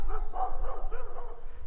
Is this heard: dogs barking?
yes